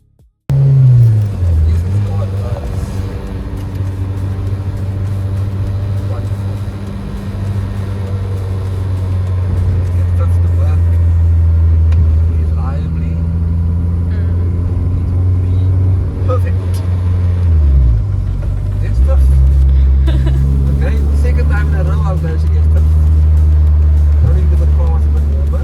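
K-swapped Honda EK Civic engine idling on a cold day while it warms up, a loud steady low drone close by that dips and recovers partway through, running continuously.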